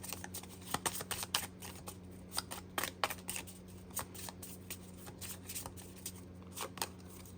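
Angel cards being shuffled and drawn for a card reading, a close, quiet run of crisp riffling flicks and slaps in irregular bursts, with a soft hum underneath.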